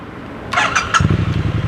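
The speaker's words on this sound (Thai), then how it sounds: "มาพร้อมกับท่อแตกนะครับจากแวนแอนด์ไฮนะครับมาฟังเสียงท่อคันนี้กัน" A 2021 Triumph Street Twin motorcycle with an aftermarket Vance & Hines exhaust starting up: a few sharp starter clicks, then the engine catches into a deep, throbbing idle, close and loud.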